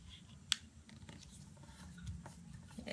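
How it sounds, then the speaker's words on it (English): Paper is folded and creased into a sonobe origami unit for a 12-piece cube. A single sharp crisp snap comes early, followed by soft, close rustling and rubbing of the paper. "I'm gonna fold it in half again."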